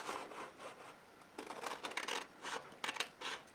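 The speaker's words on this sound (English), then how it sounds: "just for today, I'm just going to take my scissors" Scissors snip through ShokART foiling paper in a series of close, crisp crunching cuts, irregular bursts separated by short pauses, with no talking.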